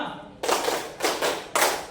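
Students in a classroom clap a rhythm pattern together, three loud bursts of group clapping spaced about half a second apart after a brief quiet lead-in.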